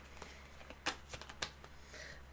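Tarot cards being shuffled in a quiet room give a few soft, brief riffling bursts, faint and close, with no talking.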